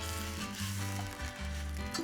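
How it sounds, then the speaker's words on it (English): Butter being whisked into a prosecco sauce in a pan, which also holds salmon, gives a soft continuous sizzle under low humming tones for about two seconds, with no talking. "Put in last minute just a little bit of butter, and we'll whisk it into a nice sauce"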